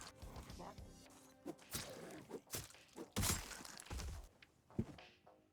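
Window glass being broken out in the Project Zomboid video game: a series of sharp knocks, thuds and crunching shatters at irregular intervals, fairly close and moderately loud.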